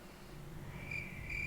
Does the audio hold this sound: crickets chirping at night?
yes